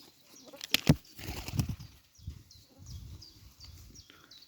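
Pigeons take off with a couple of sharp bursts of flapping wings close by, then quieter rustling and faint scattered sounds.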